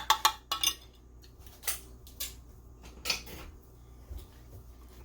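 A chili pepper honey marinade being mixed in a bowl, with sharp clinks and scrapes of utensil against the dish in scattered bursts, close and fairly loud over a quiet room hum.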